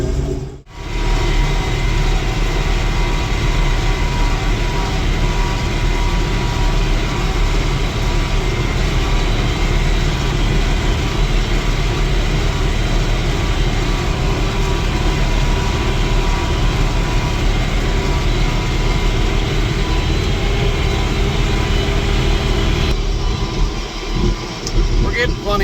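Tractor engine running steadily while planting organic corn in a hillside field, a constant loud low drone inside the cab with someone talking over it throughout.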